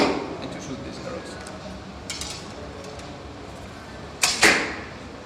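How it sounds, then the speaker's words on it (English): Arrows with Koç nocks are nocked and shot during an archery session, giving a couple of sharp, close release snaps and a quick clatter near the end over quiet background. "It's a lot of fun to knock and to shoot these arrows."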